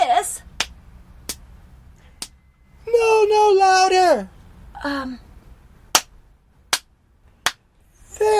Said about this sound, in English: They come out of the closet when she claps her hands 3 times.